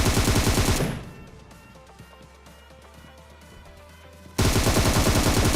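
Rapid automatic gunfire in a battle royale mobile shooter, loud bursts at the start and end framing a quieter stretch of layered game sound effects, with no talk.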